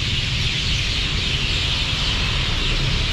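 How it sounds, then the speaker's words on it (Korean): Birds in trees in Vientiane, Laos chirp in a dense, steady chorus, blended into a continuous hiss of outdoor ambience without talk. "여기에서 새 소리가 나네?"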